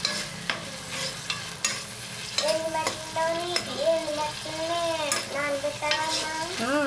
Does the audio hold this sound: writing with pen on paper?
no